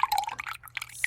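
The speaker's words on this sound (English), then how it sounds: "splashes of this just for like a little sweetener." A few quick splashes of sugar-free sweetener poured into iced matcha, short bright liquid pours and drips, close and alone.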